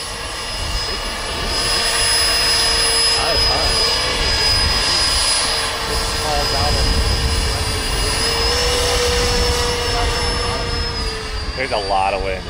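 Electric jet aircraft hovering and climbing, a loud steady turbine-like roar with a high whine held throughout, while people shout and talk over it near the end.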